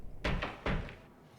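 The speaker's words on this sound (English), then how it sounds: "The house seems to shake and let out a terrible creak" Two heavy wooden thumps, like a shaking, groaning old house in a dungeon-crawler game, close and brief with a short rumbling tail.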